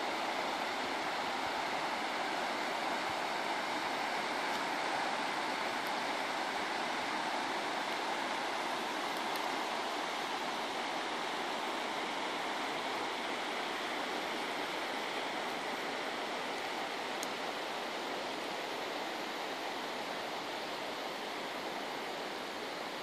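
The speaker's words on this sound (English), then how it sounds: "And there's the river." Flowing water rushes steadily and evenly for a long stretch, a broad continuous hiss without pauses or voices.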